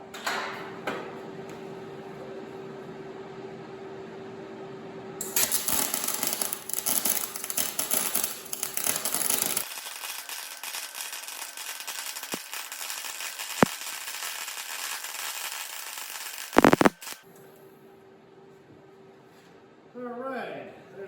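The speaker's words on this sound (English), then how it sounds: "So now we're ready to weld." A wire-feed welder laying a bead along a seam, a loud dense crackling buzz for several seconds, then a quieter hiss and brief pops, with a voice at the start and end.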